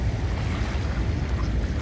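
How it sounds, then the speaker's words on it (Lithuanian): Atlantic ocean surf at a beach, a dense continuous wash of waves mixed with wind buffeting the microphone, steady for under two seconds. "Žiūrėk, kokias bangas tas."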